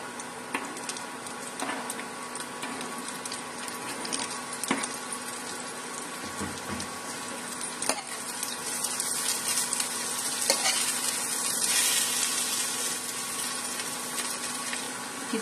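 Zucchini and other vegetables stir-fry in a pan with a steady sizzle, punctuated by occasional scrapes and taps of a spatula, close and continuous.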